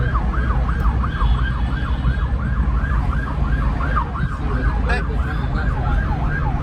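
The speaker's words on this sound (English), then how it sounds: "Because of the traffic, that's why they have the siren on there." An emergency vehicle siren wails in repeated rising and falling sweeps through the whole stretch, loud and fairly close, over a steady rumble of dense traffic on a road in Ghana.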